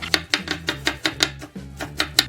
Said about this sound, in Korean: 대파는 간을 갈아서 송송송 썰겠습니다